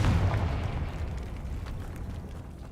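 A Confringo spell blast in Hogwarts Legacy goes off as a loud, close boom that rolls into a long, fading rumble, with no voices over it.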